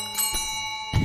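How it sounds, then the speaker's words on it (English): A service bell rung repeatedly inside the Sunny Meadows medical institution in Phasmophobia, a few sharp strikes over about a second with a steady metallic ring sustaining between them, fairly close and clear, with a heavier thump near the end. "Going to be ringing that bell."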